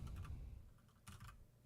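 Computer keyboard typing at a desk during a stock market discussion, two short quiet bursts of clustered key clicks separated by a pause, close but faint.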